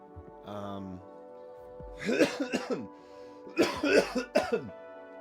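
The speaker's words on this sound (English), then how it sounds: "I may be clearing my throat, coughing a little bit." A man coughs and clears his throat close to the microphone: a short throaty rasp first, then two clusters of harsh, rattling coughs, each cluster several quick bursts long, with quiet pauses between.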